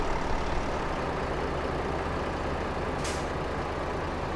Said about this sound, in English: the sound of this engine is impressive